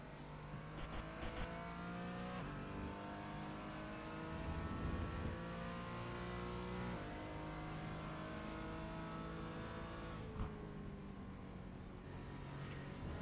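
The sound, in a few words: Porsche Cayman race car on warm-up laps at Silverstone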